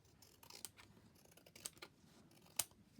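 Scissors trimming a paper envelope: a few quiet, isolated snips and crisp blade clicks spaced about a second apart, close by in an otherwise hushed room.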